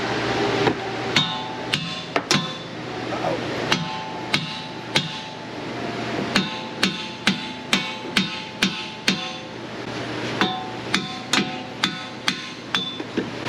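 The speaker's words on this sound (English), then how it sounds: "I might have to slide hammer it" Repeated sharp metallic slide hammer strikes on a 2017 Ford Fusion hub bearing, close and loud, landing in irregular bursts with short pauses between groups of blows.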